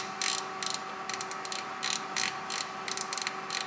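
An oven timer dial is turned to 25 minutes on an oven already heated to 200 degrees, making short bursts of rapid ratcheting clicks over a steady low hum, close and distinct, with no one talking.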